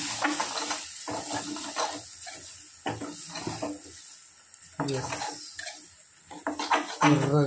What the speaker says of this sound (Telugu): కారం వేసుకున్నాక కలుపుకోవాలి మంచిగా